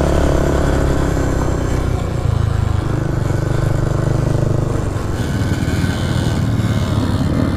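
A Kawasaki motorcycle engine rumbles loudly and steadily at close range, its low idle never letting up, in an abandoned warehouse.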